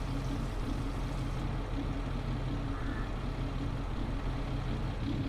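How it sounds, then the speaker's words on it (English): A heavy truck engine in the Farming Simulator 22 video game idles with a steady, deep, droning rumble that stays loud and even throughout, with no one speaking. "that truck even sounds mean"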